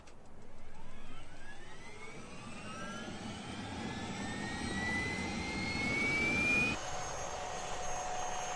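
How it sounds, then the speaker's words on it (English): Helicopter flying in the video game Farming Simulator 17, a steady loud turbine whine and rotor roar with rising pitch, continuous throughout with a slight drop near the end. "I'm going to jump in my helicopter here."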